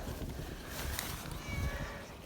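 A black cat meows outdoors during a snowy winter blizzard, one or two faint cries against steady wind noise.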